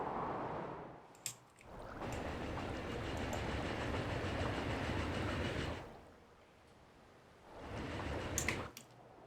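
A freight train pulls into a station in the Transport Fever 2 video game, giving a broad rushing rumble with clickety-clack wheel noise. The sound swells, drops away briefly, then surges back, loud and close, with no talk.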